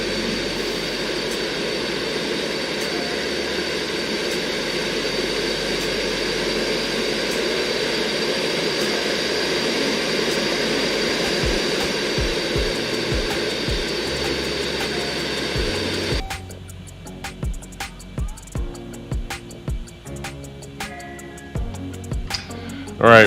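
Concorde jet engines roar at high thrust in the X-Plane 11 flight simulator on departure from New York JFK, a steady loud broadband rush that cuts off abruptly partway through, leaving quieter clicks and cockpit sounds.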